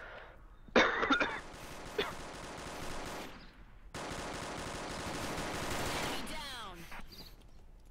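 Police gunfire in a video game: bursts of rapid automatic shots, a dense rattle early and a longer sustained stretch later, mixed with game effects while players talk over it.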